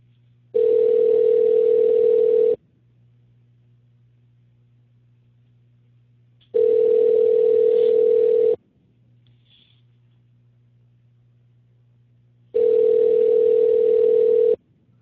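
A telephone ringback tone on an outgoing call sounds three times, each steady two-second ring followed by about four seconds of silence, clear and alone.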